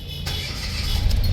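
A Mitsubishi Mirage engine cranks and catches, rumbling loudly up close over the brief moment with no voices.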